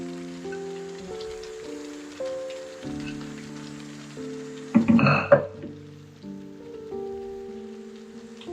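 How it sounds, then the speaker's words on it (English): Chickpeas and their cooking water are poured into frying masala for a Goan chana gravy, producing one loud, brief splash and sizzle midway through a quieter stretch. "I'm adding the chane with its water."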